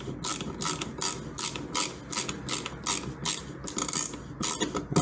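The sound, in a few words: ratcheting screwdriver clicking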